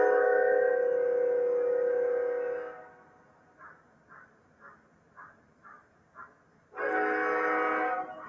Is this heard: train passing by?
yes